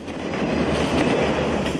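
Train crossing a busy road level crossing, a steady, dense rumble of wheels and carriages rolling past close by without a break.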